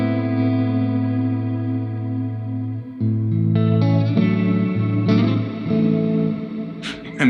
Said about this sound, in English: so there's huge reverb and chorus